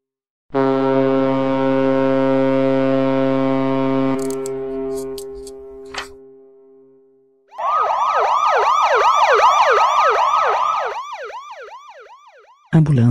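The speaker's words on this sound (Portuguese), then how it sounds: "barco" A boat horn sounds a long, steady blast, fades, and is followed by a wavering, whooping siren-like tone repeating in rapid cycles.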